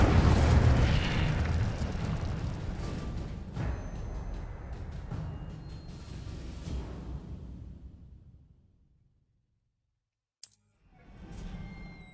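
An Incendio fire spell is cast in the Hogwarts Legacy video game. A loud, roaring fiery burst fades over about eight seconds, followed by silence and then a brief sharp magical flare with a rumbling tail.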